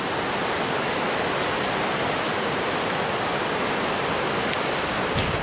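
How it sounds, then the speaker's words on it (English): Waterfall pouring down from high cliffs along a river canyon, a steady, loud broadband roar of falling water that holds constant for the whole stretch with no talking. "Look at this waterfall coming down from above."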